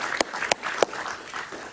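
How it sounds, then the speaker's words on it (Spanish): A studio audience applauds a guest on a Spanish-language TV talk show, with a few sharp, distinct claps standing out over a soft, scattered patter that thins and fades quickly. "Un aplauso para él, por favor."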